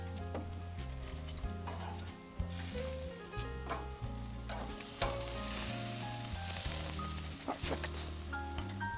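Marinated chicken cooks in a pan with a faint, continuous sizzle and occasional soft stirring noises, accompanied by steady tonal sounds in the background.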